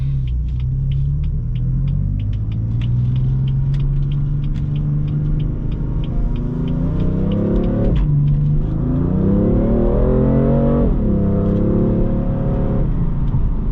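A deep, rumbling 2018 BMW M4 Convertible Competition engine revs hard and accelerates up through the dual-clutch gears, pitch climbing then dropping at each shift, loud and close.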